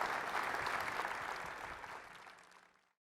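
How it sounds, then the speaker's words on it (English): Audience applause for a speaker, a dense burst of clapping that starts loud and gradually fades away over about three seconds. "How about a big round of applause for Dr."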